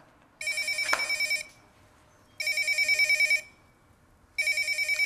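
Telephone bell ringing loudly and close in three evenly spaced bursts of rapid trilling, each about a second long with short gaps between.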